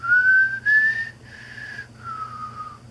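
A person whistles a short tune of several sustained, slightly wavering notes separated by brief pauses, clear and close.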